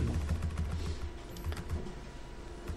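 Typing on a computer keyboard during HTML5 game coding, a steady run of light clicking keystrokes with uneven rhythm, close and moderately loud, no talking.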